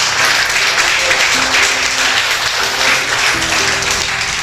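A church congregation applauds, with dense, continuous clapping that stays steady and loud throughout and has faint musical tones underneath.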